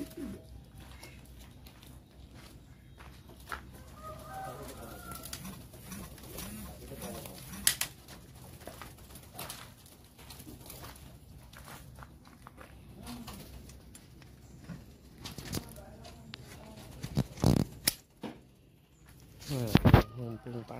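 Pigeons kept for racing coo softly and steadily, close by, in a quiet outdoor spot, with someone talking now and then, a few sharp knocks and clatters, and light rustling around them.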